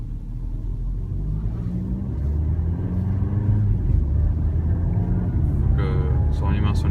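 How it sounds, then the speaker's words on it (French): Valeo eCruise 4u autonomous car accelerating at a CES 2017 demonstration, a steady low engine and road rumble that swells slightly as it gathers speed, with people talking over it throughout. "Lui il part et le véhicule va accélérer."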